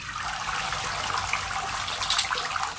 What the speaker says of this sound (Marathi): दोन पाण्याने धुतली मी